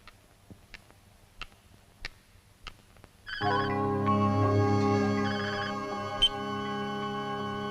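A telephone ringtone in a Hindi action film scene cuts in after a few seconds of quiet ticks and taps, then plays a loud, steady, melodic ring that continues to the end.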